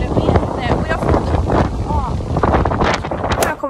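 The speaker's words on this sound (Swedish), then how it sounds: "det blåser så in i helvete eftersom vi bor vid havet" Strong wind blasts across a microphone by the sea, a loud, gusty rumbling roar that buffets throughout, with a voice speaking and faint whistling tones mixed in.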